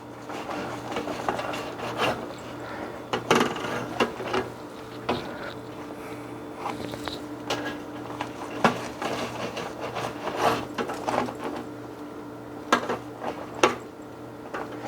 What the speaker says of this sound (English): I think I want to cut it. So I'm just going to cut this like that.